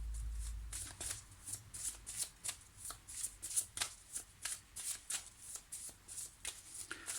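Tarot cards being shuffled in steady, close riffling bursts, about two per second, crisp and fairly quiet with no one speaking.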